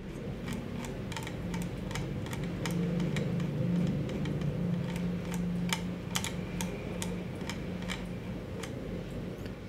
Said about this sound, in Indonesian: ketika gua scroll ke atas dia itu ada suara yang kretek-kretek gitu